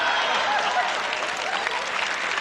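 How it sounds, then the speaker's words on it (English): An audience at an illusion show applauds steadily and loudly, a dense wash of clapping that holds at the same level throughout. "give him a big round of applause"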